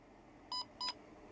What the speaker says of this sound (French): Il fait 2 bips pour dire qu'il est allumé